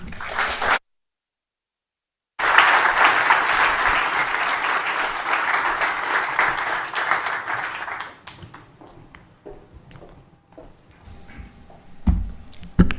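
An audience at a formal diplomatic event applauds to welcome Ambassador Chan to the stage. The clapping starts after a brief silence, comes as a loud, sustained wash, then thins into scattered claps and fades.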